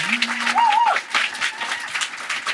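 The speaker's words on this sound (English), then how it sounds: "you all give Stephen a round of applause for being an incredible guest" A live audience at a venue in Munich claps, a moderate wash of applause that lasts throughout. A few tonal electronic chirps sound early on.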